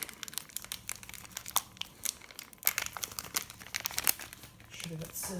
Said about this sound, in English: And so they're inside these green packages, so we'll take them out.